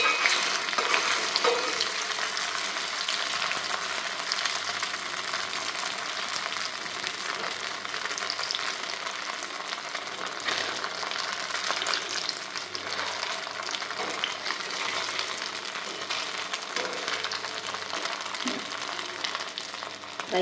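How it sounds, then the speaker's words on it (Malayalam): Chembila appam, a Kerala snack, frying in hot oil in a wok, giving a continuous, even, close sizzle and bubbling throughout with no voices. "അതിൻ്റെ തൊട്ട് ആ തിളച്ച എണ്ണയിലേക്ക് നമ്മൾ ഈ മുറിച്ച് വെച്ച് ഇതൊന്ന് ഇട്ട് കൊടുക്കണം."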